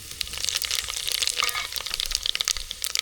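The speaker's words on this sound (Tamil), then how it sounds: "வரமிளகா நல்லா பொரிஞ்சிருச்சு ஜீரகம் சேர்த்துக்கலாம்" Dried red chillies frying in hot oil, a loud close crackling sizzle with dense rapid spits and pops that continue steadily without pause.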